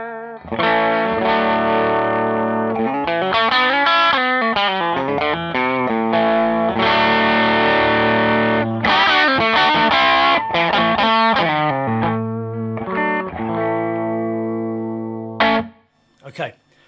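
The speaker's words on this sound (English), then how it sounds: "So here's the guitar straight through the amp," An electric guitar with low-output pickups runs straight into the amplifier with no boost. It plays loud, sustained, distorted chords and riff passages almost without a break, then stops and rings out with a few last notes at the end.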